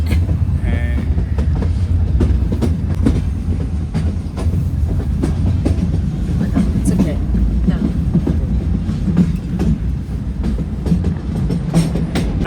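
A train on the Goram Ghat mountain route in Rajasthan, heard from the rear of the train: a loud, continuous rumble with rhythmic clickety-clack of the wheels over the rail joints, steady and close throughout.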